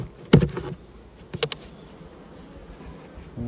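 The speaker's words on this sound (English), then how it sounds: "We've still got quite a nice few bees coming at us" Honeybees buzz around an opened hive, with a couple of sharp close passes by the ear near the start and middle over a faint, steady background hum.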